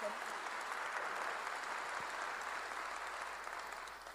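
A church congregation breaks into applause during a sermon, a faint, steady patter of many hands clapping together for several seconds, tapering slightly at the close.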